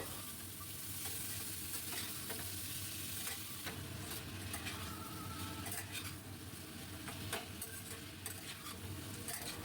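Papaya and potato pieces fry in a wok with salt, giving a steady sizzle that carries through the whole stretch, with stirring scrapes and occasional clinks of a spatula against the pan, close and alone.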